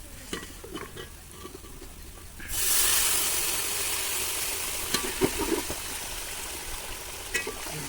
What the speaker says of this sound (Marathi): थोडं कांद्यावर पाणी घालायचं